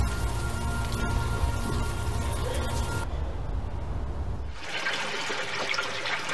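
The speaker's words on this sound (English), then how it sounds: "At least the rain is washing away most of the smell." Steady rain in the Unavowed video game, a continuous hiss of rain falling on surfaces whose tone shifts midway, heard alone.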